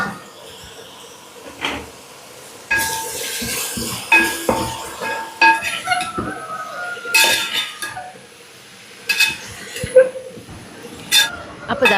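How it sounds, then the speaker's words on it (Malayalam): A pot of boiling sambar is stirred in a home kitchen, with intermittent metallic clinks and scrapes of a ladle against the pot alongside other dish sounds, while a person talks throughout. "ഒന്ന് ഇളക്കി കൊടുക്കട്ടെ."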